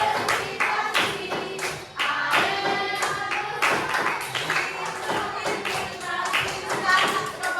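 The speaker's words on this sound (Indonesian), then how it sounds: "Lagi itu tepuk tangannya tidak nyaring, tidak enak didengar" Classroom students clapping their hands together, a fairly loud burst of many overlapping claps with rough rhythm, plus some shuffling and voices.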